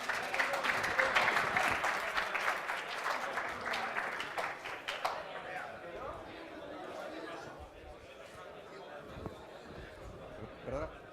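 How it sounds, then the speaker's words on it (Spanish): Applause from an audience at a tech conference talk on natural language processing, strongest at the start and fading after about five seconds into room chatter and murmuring voices. "un fuerte aplauso para él"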